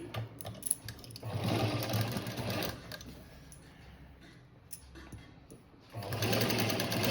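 A sewing machine stitching a blouse made from a saree border runs in two main rapid bursts of whirring stitches, separated by a quieter pause with brief start-stop spurts.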